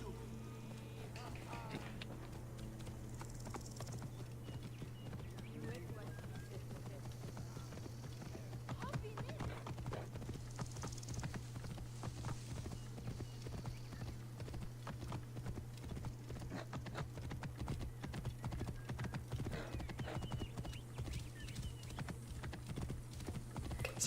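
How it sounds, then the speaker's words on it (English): Rapid rhythmic clip-clop of horse hooves galloping steadily throughout in Assassin's Creed: Origins, over a constant low hum, with a voice talking faintly at times. "I'll ride my horse down to the coast"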